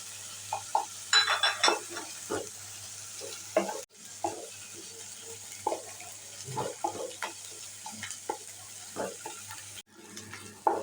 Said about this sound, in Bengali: এবার আদা আর রসুনের পেস্টটা দিয়ে দিচ্ছি দিয়ে ভালো করে নাড়িয়ে নিচ্ছি